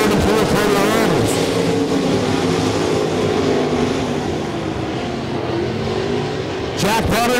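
305 sprint cars roaring around a speedway oval at RPM Speedway, loud engines rising and falling as they pass, with a race announcer talking over the engine noise.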